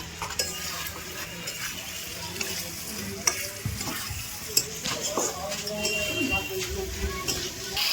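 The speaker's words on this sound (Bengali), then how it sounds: "মশলাটা দিয়ে ভালোভাবে কষানো হবে যতক্ষণ জল না ছাড়বে তেল ছাড়বে" Spicy chicken is stir-fried with masala in a pan over a wood-fired stove. A constant sizzle runs under repeated scraping and clinking of the utensil against the pan, with sharp knocks now and then.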